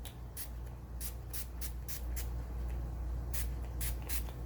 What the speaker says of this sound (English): very quickly spray across my eyes with setting spray